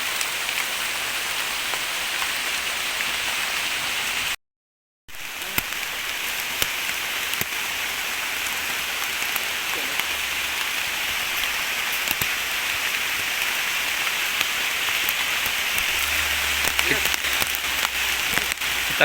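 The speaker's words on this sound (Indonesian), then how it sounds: "Kita kena hujan nih." Rain falls steadily in a forest among agarwood trees, a dense, even hiss of drops that continues throughout with only a brief gap in the sound.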